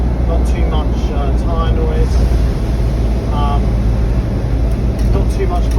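A Land Rover Defender 200tdi on oversized tyres drives along a road, its steady, loud engine and road rumble filling the cabin, with a faint voice buried underneath.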